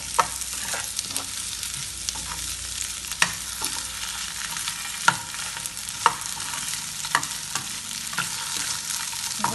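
Cut potatoes fry with sautéed onions in a pan, a steady sizzle broken by sharp periodic scrapes and knocks of a spoon stirring, close and without speech.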